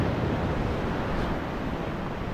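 Ocean waves break on the shore at a fishing spot, a loud, dense, continuous roar of surf with light wind across the microphone and no voices.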